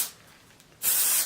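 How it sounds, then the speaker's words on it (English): A Unite texture spray gives one loud, sharp aerosol hiss of about half a second as it is sprayed onto hair, following a quieter stretch of room noise. "I'm just using a Unite texture spray"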